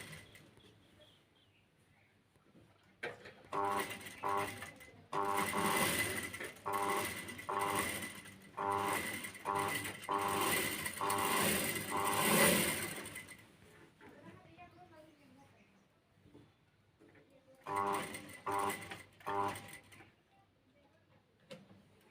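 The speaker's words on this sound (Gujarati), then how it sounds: "કુર્તીની સિલાઈ થઈ રહી છે" A sewing machine stitches a kurti in rapid rhythmic bursts. Long runs of stitching give way to quieter pauses, where a voice is heard briefly, before the machine starts again.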